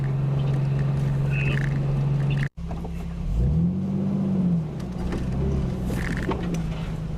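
An old Jeep is driven off-road on a creek trail by someone learning a manual clutch, its engine droning steadily, cutting out briefly, then revving up and down loud and close.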